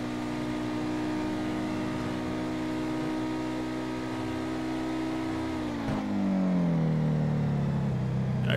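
Modified Honda Civic VTi in a driving video game, its engine droning steadily at high speed, then the pitch shifting and rising near the end as it keeps accelerating; no talk.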